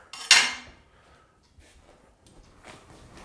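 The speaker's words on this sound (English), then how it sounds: "I give this a quick stir here" A spoon stirs and clanks against a pot of cabbage soup, one sharp metallic knock at the start, then quiet scraping with a few soft clinks toward the end.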